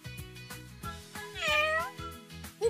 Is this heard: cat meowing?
yes